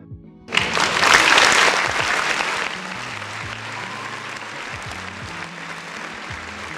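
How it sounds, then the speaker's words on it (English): Sudden burst of applause from an audience that swells loudly for about two seconds, then settles into a lower, steady clapping under background music. "big round of applause for the people in the chat"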